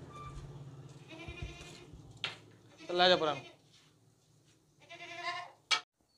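A healthy, fat domestic goat bleats a few times nearby while someone talks over and between the calls, with a sharp clatter near the end.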